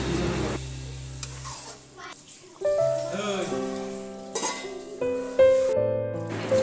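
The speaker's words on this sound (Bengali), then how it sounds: "হাই ফ্লেমে মাংস কিছুটা নাড়াচাড়া করে নিয়ে" Meat being stirred and fried in a pot over a high flame, with intermittent scraping and clinks of a utensil against metal and bursts of sizzling, all close and fairly loud.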